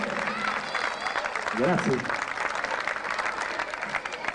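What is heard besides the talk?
audience applause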